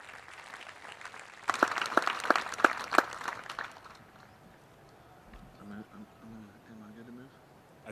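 Applause breaks out at a 25th Infantry Division military change of command ceremony, a short burst of clapping from a crowd that fades out, after which someone speaks over a loudspeaker.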